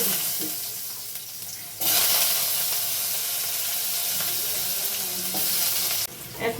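Potatoes hit hot oil that already holds a bay leaf, setting off a sudden loud, steady sizzle that spreads into a broad hiss, then briefly quiets and flares again near the end.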